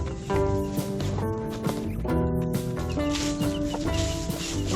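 A mother hen clucks repeatedly in short rhythmic bursts while unvaccinated chicks forage on the ground around her, the calls close and fairly clear over a busy outdoor background.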